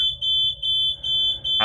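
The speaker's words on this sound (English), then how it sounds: "That beeping noise is not great." Warning alarm in the space game Voyager 19, a loud high electronic tone pulsing in a quick repeating rhythm of short beeps, with a burst of other sound at the very end.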